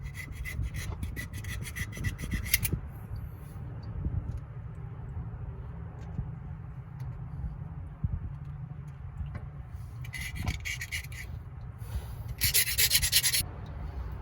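Steady rough scraping and rasping of a tool removing an old gasket from a 1964 C20 truck engine part, continuous and close, with occasional brief higher-pitched bursts of grinding.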